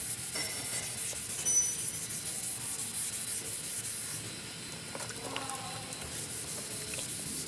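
Body filler putty being sanded by hand with 240-grit paper, a soft continuous rubbing and scraping with small hissy strokes, faint and close, no talking.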